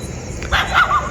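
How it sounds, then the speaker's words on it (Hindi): A dog barks near an old house at night, one or two short yipping barks rising out of hiss and low rumble, loud and close. "कुत्ते भी भौंकने लग गए अब तो"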